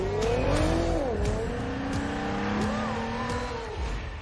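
A Nissan car driving in a TV advert, its engine sweeping up and down in pitch through a turn with faint tire squeal, loud and close, backed by a steady low rumble and occasional light percussive hits.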